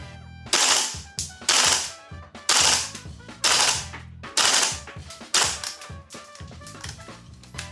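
A TM Type 89 gas airsoft rifle fires a string of loud, close three-round bursts, each a fast mechanical rattle with short pauses between.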